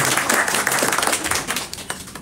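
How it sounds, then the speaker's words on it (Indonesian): A seminar audience claps and applauds loudly for a couple of seconds, a dense rattle of many hands. "Satu tepukan yang sangat berbunyi"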